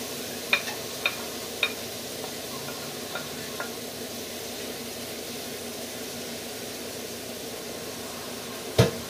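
Cabbage frying in a pan for a frugal fried rice, a faint, steady hiss of sizzling with a few light knocks of a utensil against the pan and one louder clank near the end.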